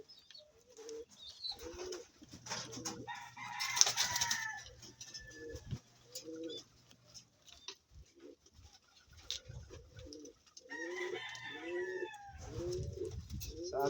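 Pet fancy pigeons let outside for their first day out, cooing repeatedly in soft low bursts, with other bird calls and a brief crowing-like sound mixed in around them.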